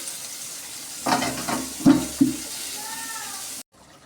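Chicken kosha curry is stirred in a pan with a few close scraping strokes over a low, steady sizzle, followed by a faint thin whine before a sudden cut.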